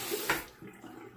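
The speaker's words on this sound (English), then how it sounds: "Let me rinse my hand off." Running water from a bathroom tap splashes over a hand being rinsed, a brief close steady gush with a short splashy burst.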